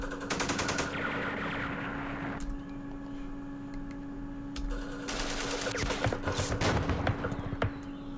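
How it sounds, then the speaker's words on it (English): Machine gun fire in the Vietnam war strategy game Campaign Series Vietnam, rapid rattling bursts that stop and start twice, loud and clear over a steady background hum, with no talking. "Machine gun, mortar."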